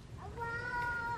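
A house cat lets out one drawn-out, rising-and-falling meow, close and fairly clear, over a faint outdoor background on a warm evening.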